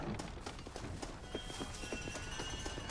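Horse hooves in the Red Dead Redemption video game, a quick rhythmic clip-clop of a ridden horse at a trot, moderately close and steady throughout under faint game ambience.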